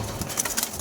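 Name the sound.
pigeons cooing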